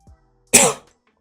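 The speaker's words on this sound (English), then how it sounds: "Not even sick, and I got this goddamn cough." A single sharp, loud cough bursts out close by, preceded by a faint short breath, then silence.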